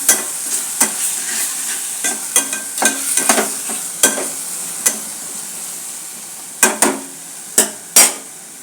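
A spoon scrapes and clanks against a pan in irregular strokes while chicken, tomatoes and ginger-garlic paste sizzle steadily underneath, the sizzle a constant hiss between the sharp knocks.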